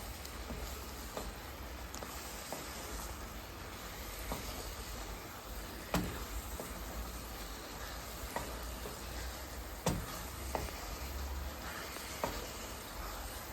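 A thickening sweet mixture stirred in a pan, a soft continuous sizzle with recurring scrapes and light knocks of the spoon against the pan every couple of seconds, close and fairly quiet.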